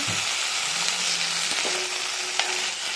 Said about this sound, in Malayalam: ഒരു ചീനിച്ചട്ടി വെച്ച് അതിലേക്ക് സവാള എരിഞ്ഞത് പച്ചമുളകും കൂടെ ഇട്ട് ഒന്ന് വഴറ്റി